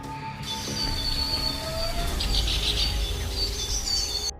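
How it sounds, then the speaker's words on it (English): Birds chirping at dawn in a forest, thin scattered calls and tweets over a low steady background hum, fairly faint and distant. "As dawn broke, birds started chirping."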